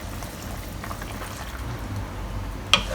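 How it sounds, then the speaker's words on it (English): Cornstarch solution is poured into a simmering soy-based sauce for shredded chicken and mushroom rice noodles, giving a soft continuous bubbling and gentle trickle, with one brief clink near the end. "Next we'll thicken up the sauce with cornstarch solution."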